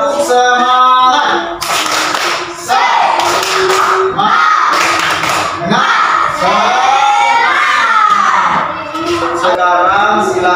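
A group of schoolchildren in a classroom doing the tepuk semangat clapping chant, loud clapping and shouted chanting in a steady rhythm throughout, with voices dominating.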